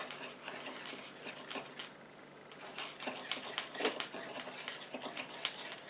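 A small homemade lip gloss mixture stirred in a little container, giving a run of quiet, quick clicks and light scrapes that sound close and faint, with no talking.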